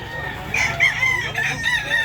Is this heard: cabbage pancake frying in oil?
no